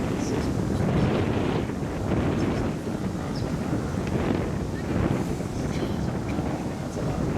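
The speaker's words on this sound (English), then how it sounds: "I think these gusts probably go up to 6 meters per second." Strong wind gusts buffet the microphone in waves, a rough roaring rush rising and falling over several seconds, with faint water sounds underneath.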